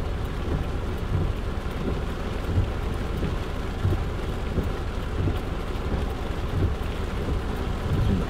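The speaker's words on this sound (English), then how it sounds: "the last couple of days they've just popped up out of nowhere and become just these huge storms" Heavy rainstorm pounding a car while driving in Las Vegas, a loud, steady roar of rain on the vehicle with scattered drop impacts throughout, no voices.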